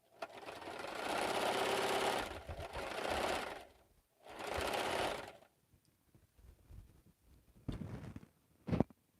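A home sewing machine stitching during a quilting session, running in two long bursts of steady whirring, then short stop-start bursts as the bobbin nears empty, close and fairly loud.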